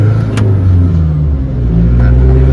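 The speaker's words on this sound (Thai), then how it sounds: "ออกตัวมีบูทเลยครับ ต่อเกียร์ปุ๊บบูทมารอนะครับ" A turbocharged car pulls away hard from a standstill in first gear, its engine a loud, steady, close-up drone with a low rumble that rises slightly toward the end.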